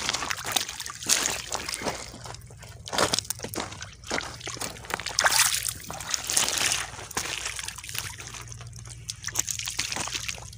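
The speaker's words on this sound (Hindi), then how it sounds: "ये भी हाथ धो रहे हैं यहाँ पर खानपुर डैम के पानी से।" Hands are washed under running water drawn from Khanpur Dam, with steady trickling and splashing broken by sloshing bursts, close by and continuous throughout.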